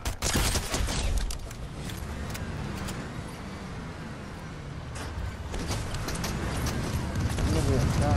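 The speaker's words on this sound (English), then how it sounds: "we're getting shot from somewhere" Gunfire rattles through a Fortnite squads match on PS4, a dense spray of shots running steadily from start to finish against a busy game mix, with players talking over it.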